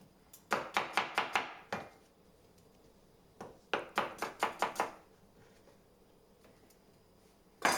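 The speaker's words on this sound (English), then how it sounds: "cut into strips before, once again, cutting into bite-sized pieces" A kitchen knife chops vegetables into bite-sized pieces for fried rice in two quick bursts of about six sharp strikes each on a board. The chopping is fairly close, with quiet pauses between the bursts and no talking.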